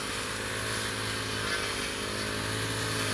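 A grass cutter runs beside a rice field, a loud, continuous buzzing engine drone held close and steady throughout, with no voices.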